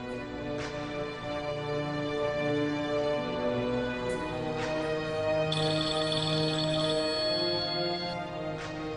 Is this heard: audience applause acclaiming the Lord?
no